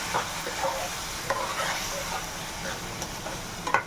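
Egg curry being stirred in a pan, soft scraping strokes and clinks of a spoon over a low, continuous sizzle, close and fairly quiet; no talking.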